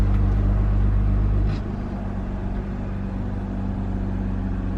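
An Audi with a low coolant level and the check engine light on turns over and catches, a loud cranking surge that drops into a steady, rough low idle rumble.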